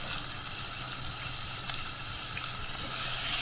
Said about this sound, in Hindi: यहाँ चिकन को भी हम अच्छी तरीके से अदरक लहसुन के साथ भूनेंगे